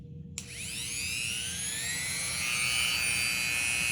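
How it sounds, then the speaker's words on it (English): A Dremel rotary tool fitted with a cutoff wheel, run at high speed while shaving the edge of a Savage Axis rifle stock, kicks on after a short pause and holds a close, steady, shrill whine with gently shifting pitch. "Take your Dremel with a cutoff wheel, turn the speed up, and just let it pick up the light."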